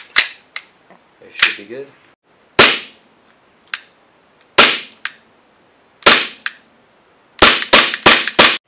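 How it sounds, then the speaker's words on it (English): An Elite Force limited edition Walther PPQ airsoft pistol is dry fired with no BBs loaded, giving loud sharp snapping clacks spaced out, then a quick burst of four at the end, with a brief spoken line early on. "It's a dry fire test, so I'm not going to be shooting any BBs."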